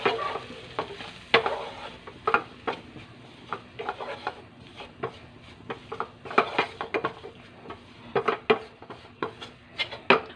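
Flour is stirred into burger patty gravy in a pan, with a spoon scraping and tapping the pan in a quick irregular rhythm over a soft bubbling sizzle, close up and without voices.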